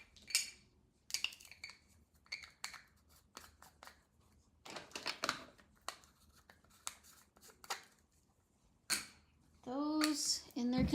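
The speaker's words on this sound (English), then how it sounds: "let's put pan pastels away before I make a mess" Pan pastels are put back into their containers: a run of light clicks, taps and clinks of small plastic pans at close range, in scattered bursts with quiet gaps, ending in a short voiced sound.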